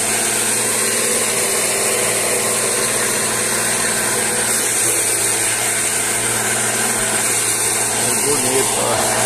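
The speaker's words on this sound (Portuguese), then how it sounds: "Moendo a cana, ó. Aí, ó. Tritura tudo." A machine grinds sugarcane on a farm, a loud, steady motorized roar with continuous churning texture, close by, with a person talking over it.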